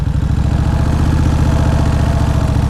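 A 2003 Kawasaki Vulcan VN1600 Classic touring motorcycle engine idles steadily up close, with a loud, even, low-pitched pulsing throb and a light mechanical clatter running throughout.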